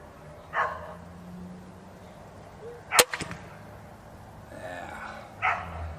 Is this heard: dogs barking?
yes